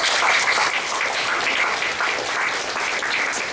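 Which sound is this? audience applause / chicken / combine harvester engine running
audience applause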